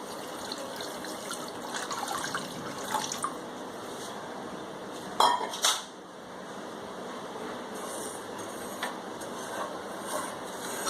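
Two cups of water go into a pan with sugar on the stove to make syrup, a steady soft trickling pour with a couple of sharper clinks midway, nearby and with no talking.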